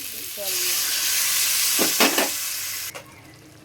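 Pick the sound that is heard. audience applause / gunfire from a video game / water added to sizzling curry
water added to sizzling curry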